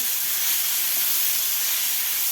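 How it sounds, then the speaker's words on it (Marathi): Two large chopped tomatoes sautéing in a pan for restaurant-style veg Kolhapuri make a dense, steady hiss and sizzle, close and loud, unbroken throughout with no talking. "दोन टोमॅटो मोठे कापून घेतलेले आहेत ते घालायचे आहेत आपल्याला आता टोमॅटोसुद्धा आपल्याला व्यवस्थित परतून घ्यायचं आहे"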